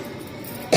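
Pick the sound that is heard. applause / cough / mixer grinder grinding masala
cough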